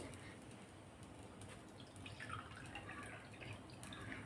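Water poured into a pot of ghee-roasted basmati rice makes a soft, steady trickle and splash throughout, faint and close, with no talking.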